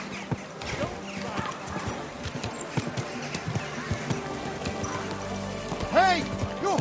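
Horse hooves clatter along at a quick pace in the medieval game Kingdom Come Deliverance II, amid crowd voices and shouting, with a whinny near the end.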